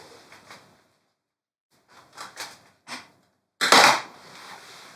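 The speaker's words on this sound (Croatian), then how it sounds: "Nažalost, stol puca." A table cracking while a panel glued with Poly Max High Tack Express adhesive is pried off, heard as a few short, sharp snaps and creaks that build to one loud crack near the end, with quiet gaps between.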